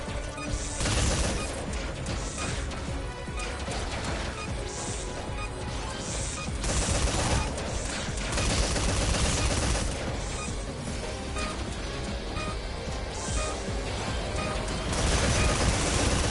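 Turret gunfire in the video game Metal Gear Survive: loud, continuous bursts of rapid shots with crashes and booms layered densely over the whole stretch.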